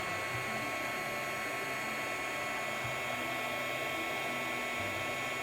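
A heat gun blowing hot air on embossing powder for a Christmas card: a steady, faint, breathy whir of blowing air that holds unchanged throughout, close by, with no speech.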